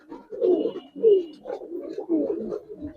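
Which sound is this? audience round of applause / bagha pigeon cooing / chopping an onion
bagha pigeon cooing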